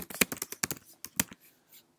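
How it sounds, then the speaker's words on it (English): Keystrokes on a computer keyboard while typing text in a browser-based programming environment: a quick burst of close, crisp clicks, then a few sparse taps fading out. "so we can type around the button."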